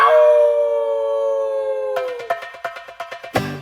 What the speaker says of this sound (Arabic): كلب بلدي